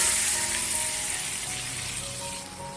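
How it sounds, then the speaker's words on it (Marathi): Hot spice tempering poured over mango dal made with raw green mango, producing a steady, bright sizzle that hisses continuously and fades slightly toward the end, with no voices. "आता फोडणी मी ह्याच्यावर घालून देते"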